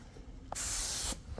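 A paint spray gun lays a first tack coat on a Ford 460 engine, giving one loud, steady hiss of about half a second that stops abruptly, with quiet room noise before and after.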